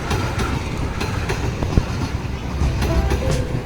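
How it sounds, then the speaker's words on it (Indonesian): The Bengawan long-distance passenger train, bound for Solo, rumbles past close by near Jatinegara, steady clickety-clack of wheels over rail joints with a continuous roar. "ini ada kereta jarak jauh, mungkin kereta Bengawan ya."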